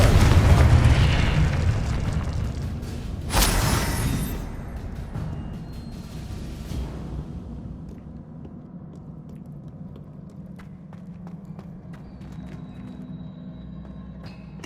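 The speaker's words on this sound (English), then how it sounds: "Confringo!" Confringo, an explosive fire spell in the video game Hogwarts Legacy, erupts in a loud, close boom with a sharp burst, then a long rumbling decay that fades into faint crackling and ambient hum.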